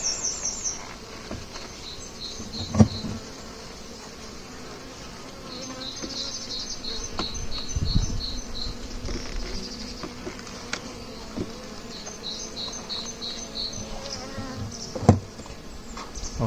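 Honey bees hum in a steady, dense drone around an open hive, with a polynuke colony next to it. Occasional clicks and knocks of hive handling and faint birdsong sit behind the buzzing.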